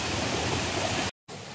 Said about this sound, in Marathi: पाऊस बघू शकता मित्रांनो, अचानक वाढलाय आणि पाण्याचा वेग पण वाढलाय.